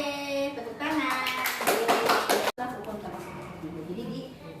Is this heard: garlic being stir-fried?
no